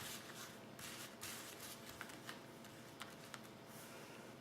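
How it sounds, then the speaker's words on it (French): Tarot cards are shuffled close by, giving soft, papery riffles and faint taps in a quiet room. "Alors, on va couper. Et on va tirer une carte."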